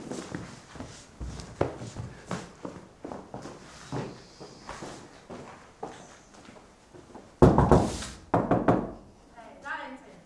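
Someone knocks on a door of a home with a few hard, separate raps mixed with footsteps and thuds, while people talk nearby throughout.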